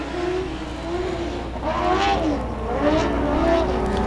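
Race cars like go-karts scream down the front straightaway at 281 Speedway, engines passing in rising and falling sweeps, loud and continuous with one car pulling closer near the end.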